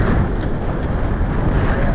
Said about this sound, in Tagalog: Lakas po ng hangin.